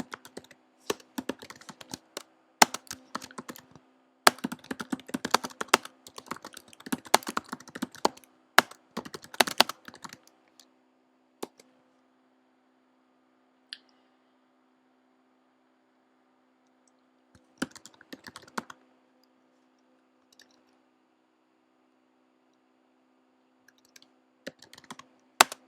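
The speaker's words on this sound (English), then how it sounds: "let me just type a reply to Jennifer" Typing a reply on a computer keyboard, with dense bursts of key clicks for the first ten seconds, then scattered short runs and isolated taps over a faint steady hum.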